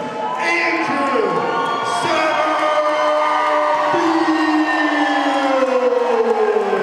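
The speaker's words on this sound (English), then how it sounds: "Hear that crowd cheering for the hometown guy" Crowd at a Fieldhouse Cage Fights MMA event cheering loudly for the hometown fighter from Parkersburg, West Virginia, a sustained roar of voices with whoops and shouts filling the whole stretch.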